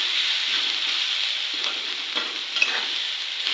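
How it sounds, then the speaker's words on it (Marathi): A paste of chilli, garlic and cumin fries and is stirred in a pan, giving a steady close sizzle with occasional soft scrapes of the spoon and no talking. "व्यवस्थित असं मिक्स करून घ्यायचं आहे मिरचीचा कच्चेपणा पूर्णपणे घालवायचा आपल्याला"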